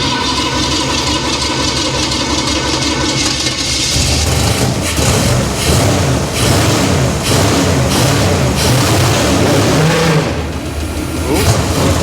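A freshly started engine with a suspected bad carburetor float, after flooding, runs and idles loudly and close, with uneven surging bursts of revs and a steady rough drone, while voices talk faintly over it.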